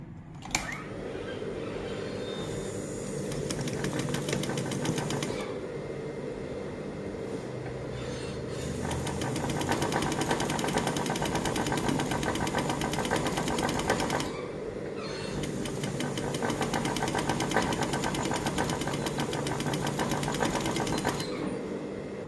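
A sewing machine joins two fabric pieces with a seam, its steady close whirring rattle running in long stretches with short pauses between runs.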